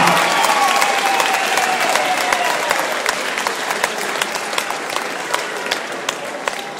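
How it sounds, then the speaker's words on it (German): Loud, dense crowd applause for both fighters at a gym combat sports event in Braunschweig, a continuous wash of many hands clapping close and steady that tapers slightly toward the end. "Ein großer Applaus für beide Kämpfer."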